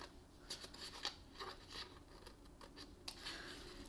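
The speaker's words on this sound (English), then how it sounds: "So let's just take our scissors and cut along the score lines." Scissors cut card stock along score lines while a hot chocolate mug is being made, giving a run of quiet, close papery snips and scrapes with no talking.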